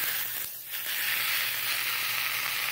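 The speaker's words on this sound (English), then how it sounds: "We're just going to let that grill. So that'll brown a little bit." Corned beef sizzling as it grills in a hot pan for a Reuben sandwich, a steady bright hiss and crackle that dips briefly before returning, close and continuous with no talking.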